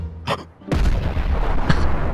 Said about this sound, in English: Are you throwing bombs at me?